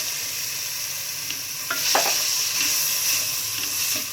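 Pre-boiled chicken pieces fry in a little oil for chicken macaroni and are stirred, giving a steady close hiss with a few scraping stirs partway through and no talking.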